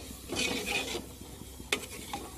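Potatoes and peas tossed in spice masala in a home kitchen pan, with bursts of sizzling and a sharp clink of a spoon against the pan, fairly quiet and close.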